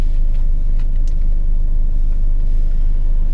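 A car driving on the way to a shop, heard from inside the cabin: a constant low engine and tyre rumble with a steady, even level and no voices.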